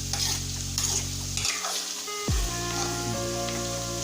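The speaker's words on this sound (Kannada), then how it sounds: "ಇದು ಮೀಡಿಯಮಾಗಿ ಫ್ರೈ ಮಾಡಬೇಕು" Batter for mothichuru ladu frying in hot oil, a steady close sizzle with a stirring scrape midway and light utensil clinks, no voices.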